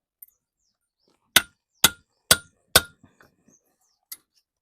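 A hammer strikes hard metal while a New Holland 4WD tractor bearing is knocked out: four loud, ringing blows in quick succession, then a single later hit, close by with quiet gaps between.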